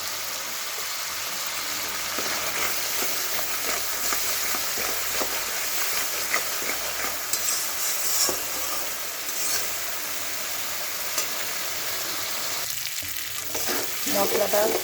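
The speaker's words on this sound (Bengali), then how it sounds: "মশলাটা ভাজা হয়ে গেছে" Spices and turmeric frying in oil produce a dense, crackling sizzle that fills the whole span, with stirring scrapes and a louder burst of spatter near the end.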